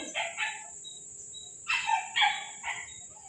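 Dogs bark in the background, several short yaps in quick clusters, some fainter and some nearer, over a soft continuous chirr of crickets.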